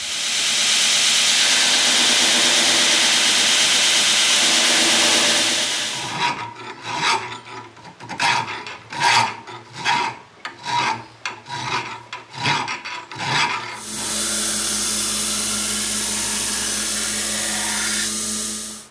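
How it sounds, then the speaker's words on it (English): Hand files rasp across a Damascus steel kitchen knife blade to flatten it, in a rapid series of about a dozen short, close strokes. Steady hissy noise runs before and after the strokes, and no one speaks. "we'll go in here with, you know, all our trusty files and make it as flat as we can"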